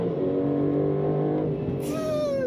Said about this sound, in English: What a noise that twin turbo V8 is making.